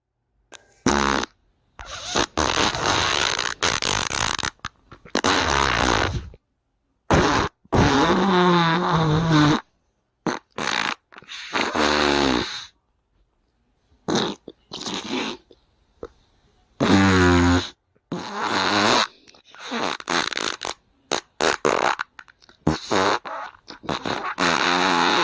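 A cartoon farting sound effect plays alone as a long run of loud, buzzy, sputtering bursts with brief gaps between them.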